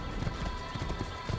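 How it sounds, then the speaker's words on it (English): Horse galloping in the Assassin's Creed video game, steady rhythmic hoofbeats over a dense, even background of game ambience, moderately loud with no clear speech. "I'm on a horse, you can't catch me"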